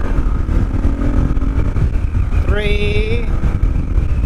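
Kawasaki KLR650 single-cylinder dual-sport motorcycle pulling through the gears, a steady engine drone under wind noise with a rising whine as revs climb near the end, while a rider speaks briefly.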